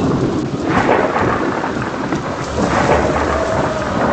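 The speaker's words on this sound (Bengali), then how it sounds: "জানলা দিয়ে বাইরে থেকে মারাত্মক বৃষ্টির আওয়াজ, পাতা ঝরার শব্দ, দমকা হাওয়া" Heavy rain pours steadily through a thunderstorm, with rumbling thunder and gusts of wind sweeping past outside a window, loud and continuous throughout with no voices.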